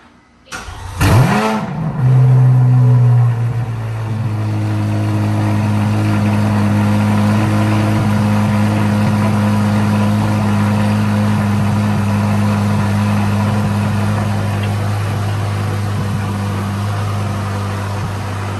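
A Chevrolet Corvette Z06 engine starts with a sharp rev that quickly falls away, then settles into a loud, steady, deep idle that holds close and constant for the rest of the clip.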